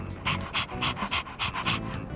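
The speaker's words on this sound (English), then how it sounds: "Ah, walking the dog, huh?" A dog panting quickly in Persona 3 Reload, about eight rhythmic breathy puffs, close and clear.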